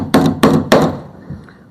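A larger nail driven into a peroba wood frame of a small boat: three sharp, evenly spaced hammer blows close by, then a softer final tap as the ringing fades.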